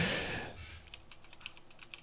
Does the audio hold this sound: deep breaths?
no